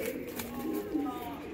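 Blue chequer racing pigeons, a pair, coo in low soft repeated murmurs under steady background noise.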